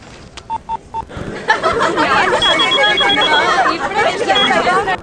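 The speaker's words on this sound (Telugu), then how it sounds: "ప్రస్తుతానికి ఫోన్ చేస్తా." A telephone is dialled with a few quick, evenly spaced keypad tones, then a busy burst of ringing and warbling phone tones follows, loud and close.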